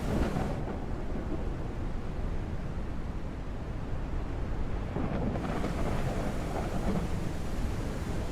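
Heavy rain pours in a dense, steady hiss with a low rumble beneath it in the video game Forsaken Realms: Exodus Rising, continuous and enveloping, briefly dulled as though muffled indoors near the start.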